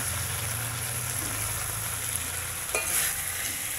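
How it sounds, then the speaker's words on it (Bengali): Boiled potatoes and spice paste frying in a pan for a fish curry with vegetable stalks, a close continuous sizzle with stirring scrapes and a brief clatter near the end. "আর একটু বাকি ভাজা ভাজা করে নিই"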